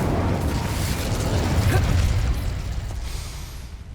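A fire spell cast in the Hogwarts Legacy video game erupts as a loud, roaring burst of flame that holds steady for several seconds, then fades slightly toward the end.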